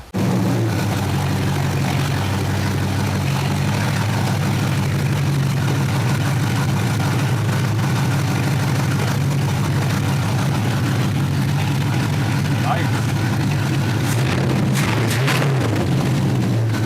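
A 1977 Pontiac Firebird V8, freshly overhauled, idles steadily up close with a deep, even low rumble and slight lope, loud and unbroken for the whole stretch with no talk over it.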